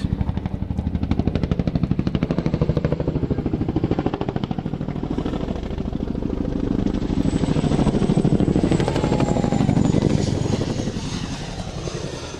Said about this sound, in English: We will now perform a nose down quick stop, proving that although the size and the weight of the aircraft, it can stop in the size of half a football field.